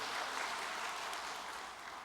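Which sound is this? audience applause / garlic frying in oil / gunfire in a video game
audience applause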